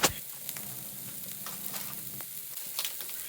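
Frozen shish kebab pieces and vegetables fry in a pan, giving a soft, even sizzle with light clicks and a thump at the start, close and without any voices.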